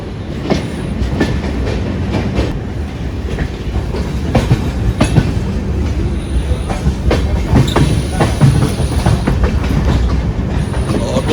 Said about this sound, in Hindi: ठीक सामने देख रहे हैं वंदे भारत एक्सप्रेस का आगमन हो चुका है इगतपुरी